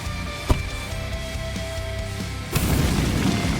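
A sharp booming burst hits near the start, followed later by a louder, sustained crackling fire-arrow blast under a faint tonal soundtrack in the mobile game Stickman Archer.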